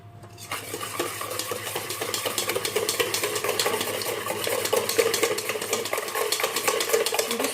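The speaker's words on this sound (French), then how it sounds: "Je vais battre comme ça au fouet à main" Eggs beaten with a hand whisk in a bowl for a pineapple cake batter, a fast, steady scraping and clicking that runs continuously and close up, with no voices.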